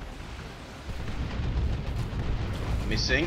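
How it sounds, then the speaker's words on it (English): Stick bomb explosions from Ork stick bombers in the strategy game Dawn of War 2, a dense run of booming blasts and gunfire-like thuds that builds after the first second and stays loud throughout. "Stick bombers throwing 2 volleys of their stick bombs"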